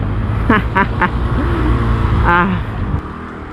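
A GPX Drone automatic scooter rides through city traffic on the Sathorn bridge, its low engine drone steady beneath surrounding road noise, while someone talks intermittently close to the microphone.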